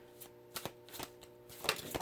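Oracle cards being shuffled in short bursts, a few papery riffles and slaps close by in a quiet room, with no speech.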